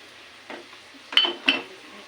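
A utensil stirring garlic mix in a pan: three soft scraping clinks, the last two sharper and metallic, over quiet background hiss.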